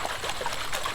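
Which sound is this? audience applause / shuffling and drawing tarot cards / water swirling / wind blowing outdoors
water swirling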